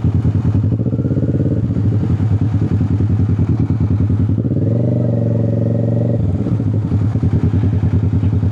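A motorcycle idling close by in a café parking area, its steady mid-pitched engine rumble rising briefly in a rev midway before settling back to idle, loud and continuous.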